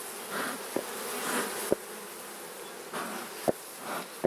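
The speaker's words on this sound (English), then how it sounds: "The bees are pretty well behaved today." Honey bees buzz steadily around a hive, a dense swarming hum with a few sharp clicks scattered through it.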